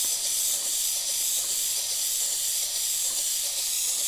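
An Iwata suction feed airbrush fitted with an HP.BCN Neo head sprays paint in a steady, close, continuous airy hiss that barely varies in level and has no voices over it.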